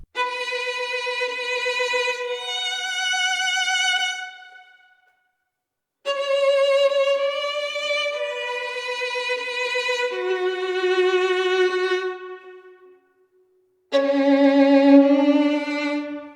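Sustained bowed notes from a Spitfire solo violin sample in Kontakt, three phrases with brief silences between them, dry and unaccompanied at moderate volume.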